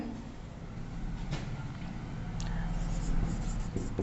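Chalk or marker strokes on a classroom board during a Hindi-language chemistry lesson on catalysts: soft, close scratching and tapping that comes in short bursts, with room noise and no clear speech.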